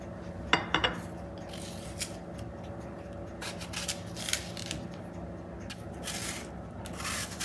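A knife scrapes and cuts through an apple as it is peeled and cored for apple pie, giving close, soft rasping strokes with a few sharper clicks near the start, over a quiet kitchen hum.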